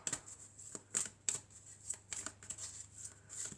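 Tarot cards are handled and shuffled close by, soft papery flicks and riffles in irregular bursts, quiet and without talk.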